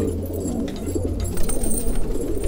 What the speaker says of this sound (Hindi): बहुत ही बढ़िया कबूतर है, बहुत ही सुंदर।